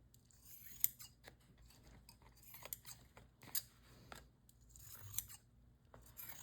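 Scissors snip along the edges of vintage lace paper with a run of sharp, close cutting clicks at an irregular rhythm, heard alone without talk.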